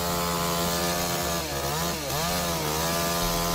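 Chainsaw cutting into a tree, a loud continuous droning rasp with the pitch dipping briefly as the chain bites into the wood, close and unbroken throughout.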